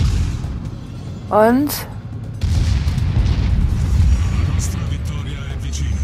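An enemy ship firing high-explosive shells in World of Warships, a deep boom followed by a sustained low rumble of further fire under game music and a brief spoken word.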